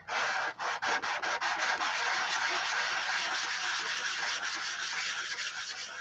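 Hand sanding on an aircraft panel during hangar rash repair: a few separate rasping strokes at first, then a steady, close scratchy rubbing that carries on without pause.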